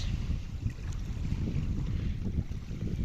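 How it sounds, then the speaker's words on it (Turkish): A low, broad rumble of heavy boat traffic engines and water noise rolls on steadily at a beach, mixed with wind buffeting the microphone. "tabii çok fazla tekne trafiği var"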